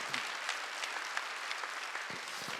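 Church congregation applauding during a worship service, a faint, distant patter of clapping lasting a couple of seconds at low level.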